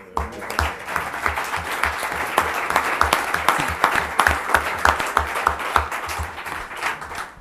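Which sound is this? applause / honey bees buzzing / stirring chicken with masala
applause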